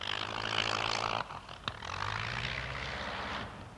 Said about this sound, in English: He gets some of his fun from a vintage biplane, the B-2, almost 40 years old.